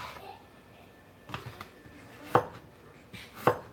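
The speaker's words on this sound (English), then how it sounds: "I just grab a knife and start cutting." A kitchen knife chops through a potato in a few sharp, distinct cuts, spaced a second or so apart, close and clear over a quiet room.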